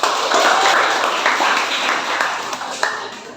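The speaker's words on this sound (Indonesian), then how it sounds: "Tepuk tangan dong." Audience clapping hands during a live teaching practice session, a dense, steady patter of applause lasting a few seconds and fading slightly toward the end.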